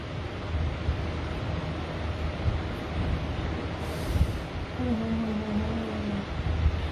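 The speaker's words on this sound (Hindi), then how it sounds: "इतनी तेज हवा चल रही है" Strong wind blows outdoors as a steady, full-bodied roar with low rumbling gusts that stays continuous throughout, with no voices.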